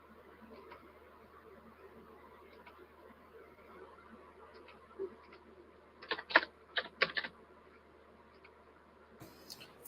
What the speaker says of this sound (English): Thumping away on those keys.